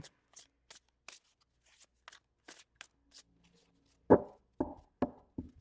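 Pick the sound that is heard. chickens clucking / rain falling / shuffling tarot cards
shuffling tarot cards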